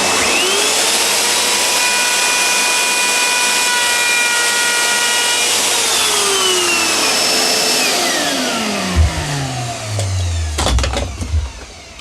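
A router fitted with a larger, deeper bit whines steadily and loudly as it cuts wood from the top of a Les Paul Junior style guitar body, then spins down with falling pitch and a few clunks near the end.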